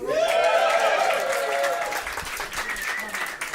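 A comedy club audience gives a burst of applause for the MC, clapping that swells and then thins out, with voices heard over the top of it.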